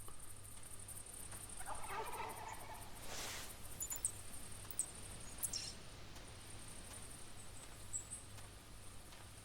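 Wild turkey gobbling in the hunting game The Hunter, a short rippling burst in the middle distance over a steady outdoor ambience of wind and insects, with faint bird chirps scattered throughout.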